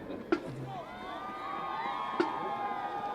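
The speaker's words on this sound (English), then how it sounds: "there's friends and family giving them the cheers over there" Friends and family cheering at a Danvers high school football game, a small crowd's sustained shouts and whoops from a distance with a few sharp claps or thumps, faint and under talk.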